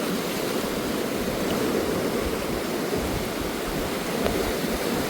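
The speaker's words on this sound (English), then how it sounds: "how do you like that raging river?" A raging river rushes past in a continuous, loud roar of flowing water, a steady broadband wash with no pauses and no voices.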